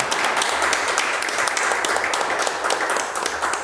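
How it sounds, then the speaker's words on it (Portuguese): A church congregation claps loudly together at a Sunday service, with dense, continuous applause close by and no letup across the whole stretch. "vamos dar a salva de palmas bem forte para Jesus"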